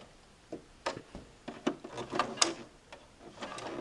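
A Brother LX3014 sewing machine stitches with a twin needle and Dual Duty XP thread, using a flower foot. It makes close, uneven mechanical clatters and thumps as it runs through a decorative stitch cycle, with no talking.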